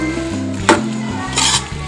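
Shredded beef for shami kabab is stirred and fried in a pressure-cooker pot, a soft sizzle under two scraping spoon strokes against the metal.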